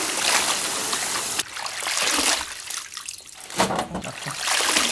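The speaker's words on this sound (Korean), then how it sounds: "흐르는 물에 이렇게 물을 좀 풀어놓고 씻으면 좋아요" Young radish greens are washed under running tap water, a steady close rush of water with splashing and rustling as the leaves are handled, briefly dipping and surging.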